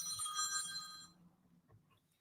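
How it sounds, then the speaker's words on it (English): An office telephone bell rings in a loud trilling burst for about a second, then stops, leaving faint room noise. "sorry, the phone's ringing."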